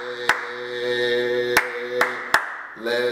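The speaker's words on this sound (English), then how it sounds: "we're going to clap, clap, clap, clap" Four sharp, widely spaced hand claps punctuate a group of voices chanting a rhythmic school chant.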